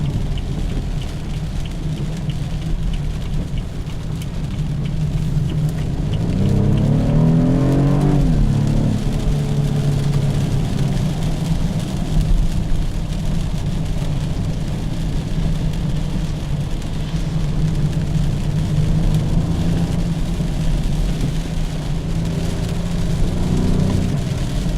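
A 2015 BMW 428i on the road gives a steady engine drone with tire and road rumble, and its revs rise and fall once early on. The sound is heard from inside the car.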